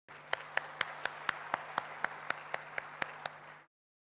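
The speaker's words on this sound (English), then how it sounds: "Let's have a big round of applause for all our panelists." An audience at a university event applauds its panelists, a soft, steady patter of clapping with a few sharp, regularly spaced louder claps standing out, ending abruptly.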